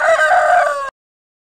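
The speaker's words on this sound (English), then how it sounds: "Chicken," Loud, close rooster crowing, a single strained cock-a-doodle-doo call that ends abruptly into silence.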